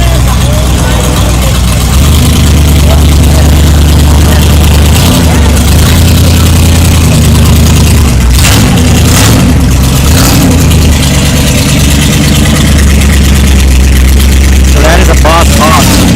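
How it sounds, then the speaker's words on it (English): A Boss Hoss V8 motorcycle engine rumbles loud and close at idle with occasional revs, a deep continuous throb under outdoor crowd noise at a Daytona Beach bike event. "That is a V8 engine on that damn bike right now."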